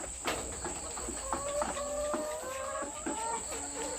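Several caged laying hens cluck and squawk in short, scattered bursts close by, with a steady high-pitched hum running underneath.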